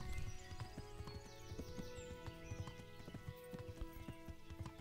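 In Kingdom Come: Deliverance, a ridden horse's hooves clip-clop in a steady, quick rhythm, fairly faint, with other game ambience beneath.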